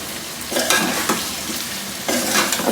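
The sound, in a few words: onions frying in pan for pyaz gosht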